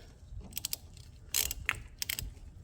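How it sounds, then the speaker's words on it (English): A hand tool tightens a threaded tie rod end on a solid-axle steering linkage, giving a few close ratchet-like clicks in short bursts, with a louder cluster in the middle. "I'll screw it in there nice and tight with my tool that I have for that."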